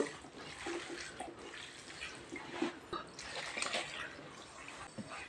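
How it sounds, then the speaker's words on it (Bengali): Water splashes and trickles into a cooking pot of fish curry in uneven bursts, close by, with small drips between pours. "পরিমাণ মতো পানি দিয়ে দিব"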